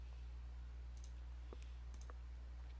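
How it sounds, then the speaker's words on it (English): Computer mouse clicks sound as a few faint, sharp ticks spaced about a second apart over a steady low electrical hum, with no voice. "then double click VHelper exe to run"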